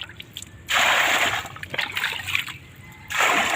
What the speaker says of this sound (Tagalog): Tapos punuin na lang natin ng tubig.